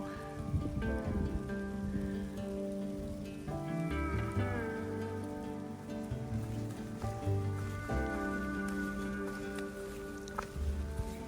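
Steady rain falls outdoors on an umbrella and the ground, a dense continuous patter with tonal background sounds layered over it and no clear voices.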